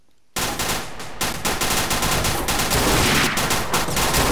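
Loud, rapid video-game gunfire from Garry's Mod bursts in suddenly and keeps up a dense, continuous automatic rattle with brief dips, heard up close.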